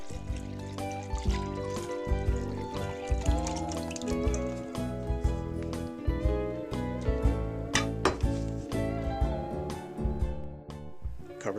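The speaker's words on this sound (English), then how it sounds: "We're now ready to pour it onto the meat in the crock pot." Cooled brine poured onto venison meat in a crock pot, a close, steady stream of liquid with splashes and drips that keep going for about eleven seconds.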